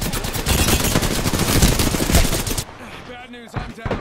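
Rapid gunfire bursts rattle through a shooter video game firefight, dense and loud for the first few seconds before dropping to quieter, scattered sounds.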